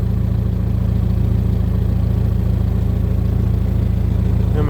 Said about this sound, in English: I'm gonna turn this, I'm gonna idle it down here.